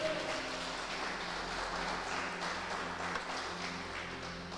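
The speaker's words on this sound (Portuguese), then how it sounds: "Dê uma salva de palmas para Jesus aí." A church congregation applauds during a sermon, producing a steady wash of clapping at moderate level that slowly fades toward the end.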